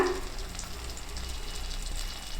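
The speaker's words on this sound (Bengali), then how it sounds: "আদা রসুন বাটা। এটা দিয়ে 2 মিনিট একটু ভালো করে নাড়িয়ে নিতে লাগবে।" Ginger-garlic paste frying and being stirred in a pan, a steady close sizzle with soft scraping, even and unbroken, no voices.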